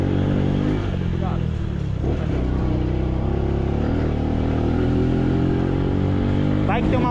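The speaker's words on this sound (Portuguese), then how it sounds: "Tem uma moto atrás de nós." A motorcycle riding close behind produces a loud, steady engine drone with shifting revs, nearby and continuous, while people talk over it.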